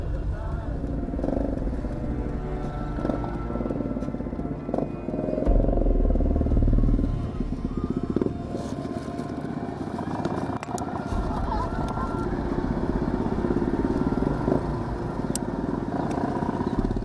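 A motorcycle engine drones steadily while riding a slippery, rocky road toward Simbuang Batu Tallu, with clatter and bumps over the ground throughout.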